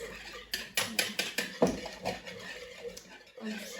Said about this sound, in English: And give that a whisk.